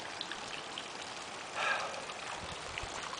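Rain running off a roof into a downspout, a steady faint trickle and patter of water with a brief louder splash in the middle.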